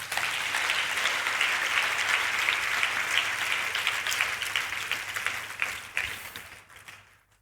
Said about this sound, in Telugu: దేవునికి ఒకసారి గట్టిగా చప్పట్లు కొడదాం.